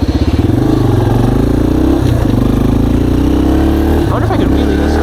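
A dirt bike engine runs loud and close while riding on a trail, with a steady, throbbing mid-range drone, rough rattles and brief revs, and a rider talking over it.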